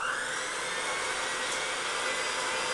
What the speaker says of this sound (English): Now we're going to put it on our mixer,